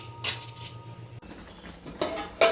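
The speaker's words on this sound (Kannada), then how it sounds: "ಮುಚ್ಚಳ ತೆಗೆದು ನೋಡೋಣ." A pot lid is lifted off a simmering fish curry with a short metallic clink, followed by a few more clatters of metal cookware, loud and close.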